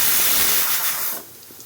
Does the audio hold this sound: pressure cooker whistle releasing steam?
yes